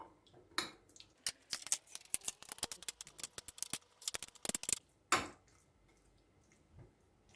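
A spoon stirs mayonnaise into a pomegranate salad, making a quick run of wet, squishy clicks and scrapes close up, then a final scrape and quiet.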